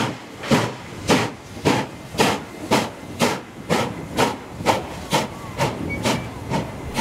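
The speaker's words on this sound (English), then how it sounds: "At 3642 now leaves the station to head its way to Waterfall" Steam locomotive 3642 pulls out of Loftus station, its exhaust chuffing in a steady, slowly quickening rhythm of about a dozen sharp hissing beats, close and prominent, with faint background noise between puffs.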